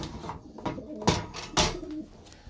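Pigeons coo inside a large coop, soft repeated coos with a few louder calls close by, no talk.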